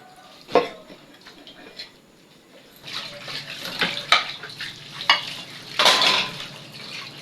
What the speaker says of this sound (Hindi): जल्दी से ये थोड़े से बर्तन है जो धो लेते हैं